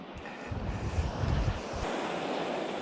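Ocean waves wash in on the English coast near an old wartime listening structure, a broad rushing surf mixed with strong wind buffeting the microphone, steady and loud for the whole stretch with no speech.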